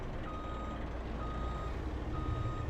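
Steady reversing beeps from a truck in Farming Simulator 25 on a Highland fishing farm, evenly spaced repeated pips over a constant low engine rumble, moderately close with no talk.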